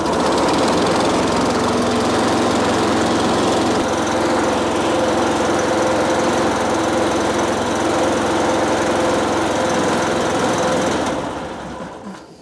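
Small gasoline engine on a service truck running steadily with a loud, continuous buzzing drone and tonal hum, then cutting out and fading near the end as it runs out of fuel.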